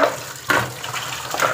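Water pours steadily from a tap into two bottles at close range, a continuous rushing fill with a couple of brief splashy surges.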